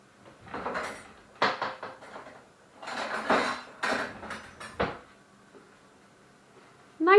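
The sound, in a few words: getting a spoon from the kitchen cutlery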